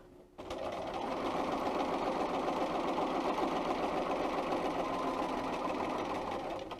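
A Bernina 440 sewing machine runs steadily, stitching a seam on fabric with a fast, even mechanical whir that starts abruptly and holds close and loud throughout, with no talking.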